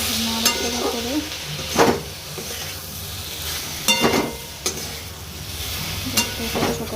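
Potatoes and soybean chunks fry in a pan with a constant sizzle, while a spatula stirs and scrapes the pan in a few distinct, fairly loud strokes.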